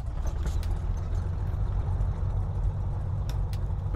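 Twin engines of a Cessna Skymaster II in the MSFS 2020 flight simulator run steadily after starting, a continuous low, slightly tractor-like drone with no one talking.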